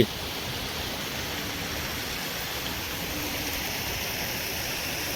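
The Godavari river at Nanded flows and swirls in a steady, even rush of water. It sounds moderately loud and continuous, with no voices.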